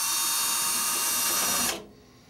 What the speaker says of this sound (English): I'm going to go ahead and drill holes here